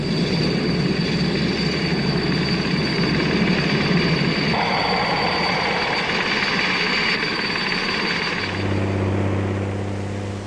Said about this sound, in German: Inzwischen startet eine Do 27.